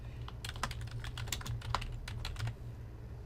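Backspace keys on a computer keyboard are pressed repeatedly in quick separate taps, soft and close, over a low steady hum.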